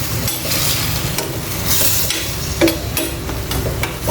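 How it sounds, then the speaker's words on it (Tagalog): Fish goes into a hot pan with sautéed aromatics and starts frying, giving a loud continuous sizzle with scraping and stirring clinks close by and no talking. "lagay na natin ang ating isda"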